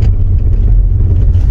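A car rolls into a deep pothole on a badly broken Delhi road, a steady close low rumble of engine and road noise throughout with no distinct impact.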